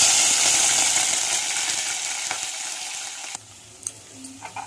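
Dried prawns frying in hot oil, a loud steady close sizzle that fades and then drops off, followed by a few light clinks of a utensil against the pan.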